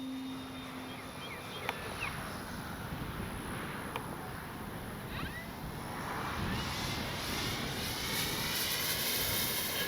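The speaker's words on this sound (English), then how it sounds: "Man, what a beautiful flying plane." Radio-controlled F4U Corsair warbird model plane flying at a club flightline, a steady engine drone with wind noise that swells slightly louder toward the end, alone without talk.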